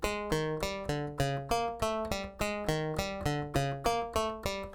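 A repeating synthesizer sequence from an Alesis Micron, plucky bright notes evenly spaced and looping in a steady rhythm, each note decaying quickly.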